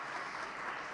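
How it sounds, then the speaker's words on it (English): Audience applause for award winners at a ceremony, a steady dense wash of clapping held at moderate level for the whole second, with no voices over it. "So can we start with a round of applause again for all of them?"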